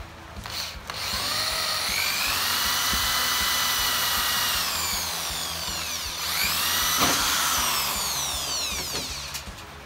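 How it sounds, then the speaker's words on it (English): A power drill with a 3/16 bit bores out rivets on a Hobie 14 sailboat mast, a loud continuous whining grind lasting nearly ten seconds with a short pause and restart. "And this is a 3/16 drill bit, drilling these rivets out."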